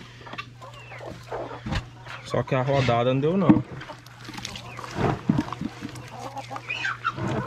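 Chickens clucking on a farm while corn is put out as feed during a pumpkin harvest, a steady series of nearby clucks and calls mixed with people talking over them.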